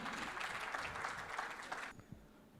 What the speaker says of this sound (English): A round of applause for Miss Beena Banerjee.